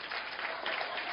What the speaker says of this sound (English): Come on, clap so no one can look at you.